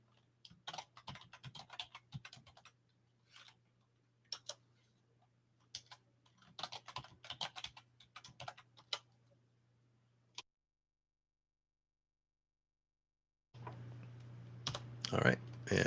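Password being typed on a computer keyboard during a Windows Server 2019 setup: bursts of quick, faint key clicks in several short runs, followed by a silent gap and then a louder hum with clatter at the end.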